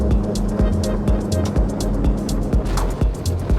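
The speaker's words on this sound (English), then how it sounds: "I don't mind a little bit of engine noise when it's that kind of engine noise." Steady, powerful engine drone from a Schaefer V33 boat's V8 outboard motors, with thuds and knocks as the hull hits water and wind rushing past.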